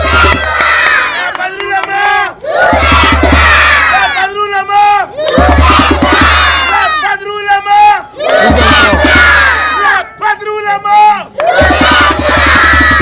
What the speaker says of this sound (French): On applaudit plus fort.